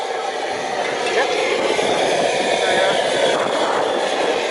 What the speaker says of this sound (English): we're hitting that up with a blowtorch. Propane.